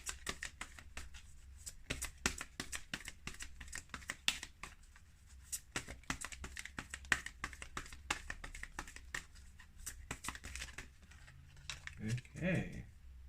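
Rapid, crisp riffling clicks of tarot cards being shuffled run through nearly the whole stretch, dense and steady, with a brief low hum near the end.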